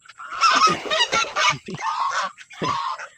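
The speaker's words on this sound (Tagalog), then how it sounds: "papawalan ko na rin yung mga alaga kong gansa" Several geese honking close by in a rapid, overlapping series of loud, nasal calls.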